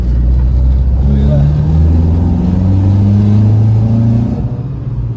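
A classic Ford Escort MK1, newly restored, accelerating on the road, its engine droning loud and close with rising rev tones through the gears before easing off at the end.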